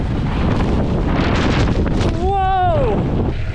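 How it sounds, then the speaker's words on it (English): Strong gusty wind at a ski slope with lifts shut down, a loud continuous roar buffeting the microphone, with a short voiced exclamation over it near the end. "A bunch of the lifts aren't running because it's super windy out today."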